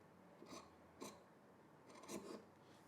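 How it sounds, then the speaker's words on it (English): Scissors snipping the fabric corners of a button-up shirt, a few quiet, separate cuts spaced apart with a sharper snip at the end, close and faint. "now we're just going to trim the corners like that"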